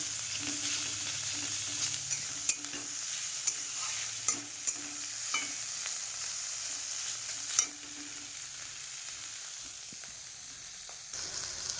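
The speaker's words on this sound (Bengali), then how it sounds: "একটু কড়কড়ে করে ভেজে নেব, কড়া করে।" Bitter gourd fries crisp in hot oil in a pan with a steady bright sizzle, punctuated by a few sharp taps and stirs of a spatula; the frying quietens slightly toward the end.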